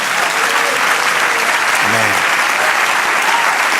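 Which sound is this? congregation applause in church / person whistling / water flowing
congregation applause in church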